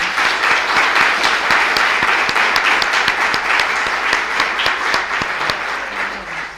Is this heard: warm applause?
yes